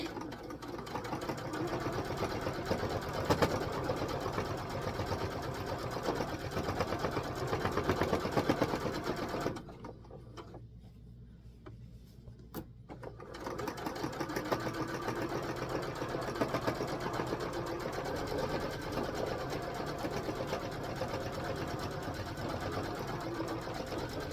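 A sewing machine stitches steadily through an old quilt being upcycled into a stocking, a loud continuous whirring drone that stops briefly for a few seconds midway, then resumes at the same pace.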